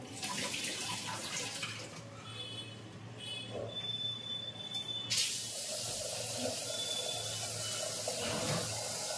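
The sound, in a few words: water from tap while washing rice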